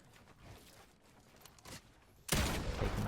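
Gunfire in the video game Fortnite, a loud burst of shots erupting after a quiet stretch of soft game movement and faint clicks.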